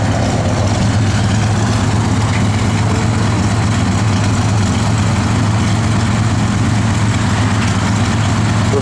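A 1969 Dodge Dart Swinger with a 340 V8 idles steadily, a deep, even rumble with a constant low throb, close and loud throughout with no talk.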